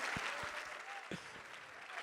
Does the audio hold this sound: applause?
yes